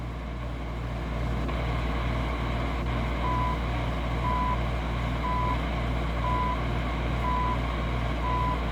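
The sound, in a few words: WWV time station signal on shortwave radio, Raddy RF886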